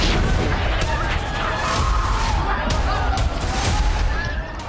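Artillery fire and bombing in Syria, a dense continuous barrage of rumbling booms and crackling blasts, loud and unbroken throughout.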